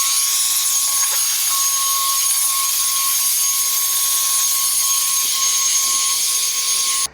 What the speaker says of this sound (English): I'll use an air blower here to get all that remaining sand off the top of the block